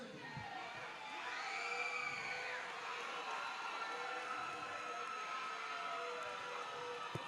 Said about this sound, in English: This is going to be Ontario's crowd.